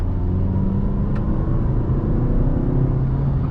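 Steady, close engine hum and rumble from a 2018 Mazda 3 Grand Touring under smooth acceleration, heard from inside the cabin with no voices.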